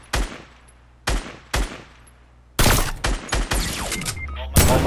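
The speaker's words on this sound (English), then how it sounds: "someone sniped me from behind" Sniper rifle fire in a video game, with sharp, loud shots near and far. A few spaced single cracks are followed by a denser volley of gunfire.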